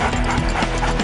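Police detection dogs panting and moving close by, a steady rapid breathing rhythm that fills the moment with no other sounds clearly standing out.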